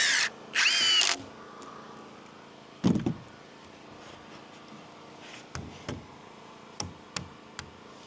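A power drill drives screws into wooden studs while an off-grid camp is built, with two short loud whirring bursts at the start and another brief burst, then faint taps and clicks of handling and placing screws.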